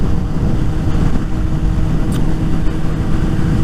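A Suzuki GSX-S750 motorcycle being ridden on a cold day, its engine droning steadily and loudly up close with continuous wind rush.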